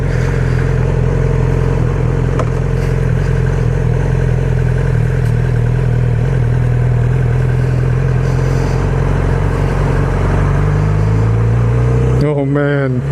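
A 2016 Yamaha R6 600cc supersport motorcycle being ridden, its engine droning loud and close with a steady tone that climbs near the end, while a rider's voice is heard over the engine and wind.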